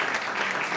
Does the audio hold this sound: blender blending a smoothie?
no